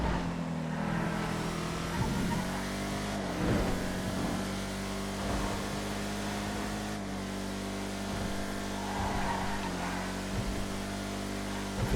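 A Picador EXR car's engine drones steadily during a race in the GTA video game, a sustained loud hum with slight pitch shifts and brief revving surges, no voices.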